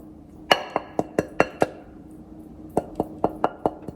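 Frozen chicken wings dropped one by one into an air fryer basket, hard sharp clinks in two quick runs of knocks, close and clear with no talking.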